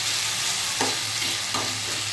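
Potato and pointed gourd curry cooking in a pan, a dense steady sizzle with two brief scraping stirs of a spatula, close up.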